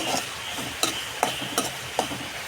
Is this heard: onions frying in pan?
yes